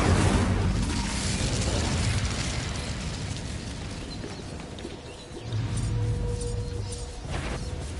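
A fire spell cast in a PS4 wizard game, heard as a dense, continuous burst of whooshing, crackling blast energy with booming low rumble, holding loud for several seconds with a brief dip and a renewed surge.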